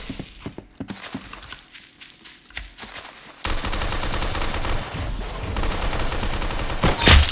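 Video game gunfire, with scattered shots early on, then a dense, continuous burst of rapid firing for the last four seconds.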